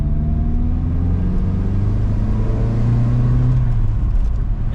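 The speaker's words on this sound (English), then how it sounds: "Little second gear rip." A small wagon's engine revs hard through second gear, a loud, rising drone that climbs in pitch as it accelerates, heard from inside the car with road rumble beneath.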